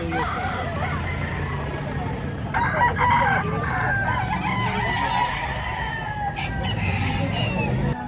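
Roosters crow repeatedly at an early Saturday chicken market in Lipa, Batangas, their calls rising over steady crowd babble, nearby talk and occasional vehicle noise.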